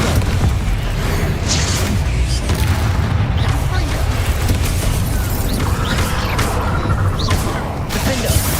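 Repeated Confringo spell explosions and booming blasts in the Hogwarts Legacy video game, dense and loud throughout, layered with clattering combat effects and a speaking voice.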